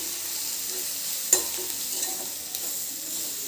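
Turmeric is stirred into brinjal curry frying in a pan, a soft steady sizzle with a few light scraping knocks from the spoon, close and quiet with no talking.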